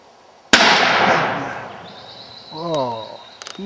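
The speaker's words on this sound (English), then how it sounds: "Give him another one, Murray" A single loud rifle shot is fired while hunting Rusa deer during the roar in New Caledonia. It cracks sharply and rolls away in a long echoing decay outdoors, followed by a brief spoken voice.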